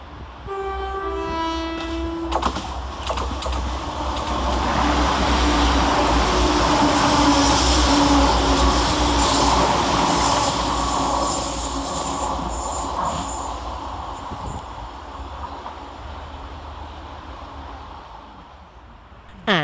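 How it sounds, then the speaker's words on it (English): Two coupled West Midlands Railway Class 172 diesel units pass fast through Langley Green station, a loud, sustained roar of engines and wheels with a brief horn at the start, fading near the end. "Next passing fast through the station is 172001 and 172339, working 2K74 for West Midlands Railway from Whitlock's End to Kidderminster."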